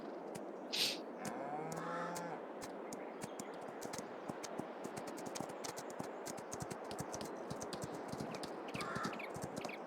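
Horses' hooves clip-clopping in Farming Simulator 22 on the Haut-Beyleron map, a steady run of sharp hoof knocks close by through a paddock, with a cow's moo and a faint horse call over low rumbling ambience.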